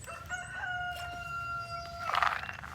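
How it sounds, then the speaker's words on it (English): A rooster crows outdoors in cold weather, a strained, hoarse cock-a-doodle-doo drawn out over about two seconds and ending in a raspy burst, at moderate distance with faint background noise. "hear a rooster trying to crow over there"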